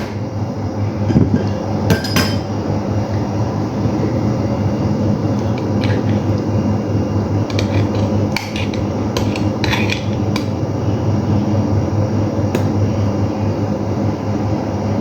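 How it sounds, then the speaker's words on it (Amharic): Garlic and ginger pounded together in a mortar for a Chinese-style chicken dish, giving loud repeated knocks and thuds at an irregular rhythm over a constant busy background. "ነጭ ሽንኩርትና ዝንጅብል በአንድ ላይ እየተወቀጠ እንደዚህ አድርጌበታለሁ።"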